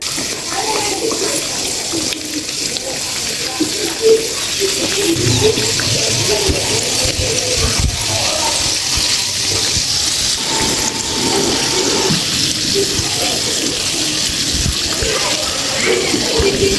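Singaras (samosas) deep frying in oil make a steady, loud, hissing sizzle that runs unbroken throughout, with small bubbling crackles rising and falling within it.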